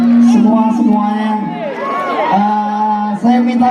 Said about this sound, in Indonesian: Saya ingin minta tepuk tangan paling meriah untuk kita semua